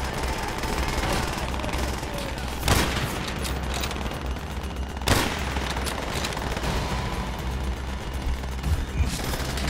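Machine gun fire in Call of Duty: World at War, a continuous loud fusillade of rapid shots with a couple of heavier booming impacts punching through the steady barrage.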